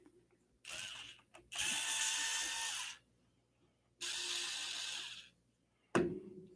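Ratcheting tool loosening a screw during assembly of a Prusa i3 MK3S+ 3D printer, heard as several bursts of rapid clicking, a short one then two longer runs, ending with a sharp knock, close and fairly quiet.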